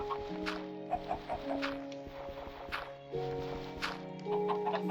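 Chickens clucking on a video game chicken farm, several overlapping clucks and short calls in an uneven rhythm over a steady droning background tone, close and moderately loud.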